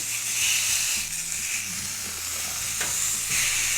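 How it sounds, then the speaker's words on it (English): Steady close-up sizzling of a beef patty frying on a Ninja GR101 indoor grill, a continuous crackling hiss with faint low clatter underneath. "Oh, sizzling."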